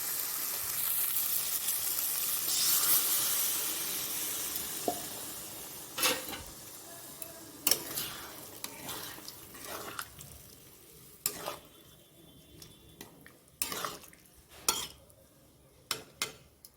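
Water poured into a hot pan of fried soybean chunks and potatoes gives a loud, hissing sizzle for the first few seconds. It settles into quieter cooking noise with scattered spoon scrapes and clinks from stirring.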